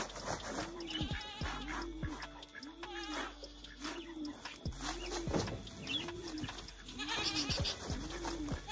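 Several goats on a remote farm bleat repeatedly in short, close, regularly spaced calls, with birds chirping in the background.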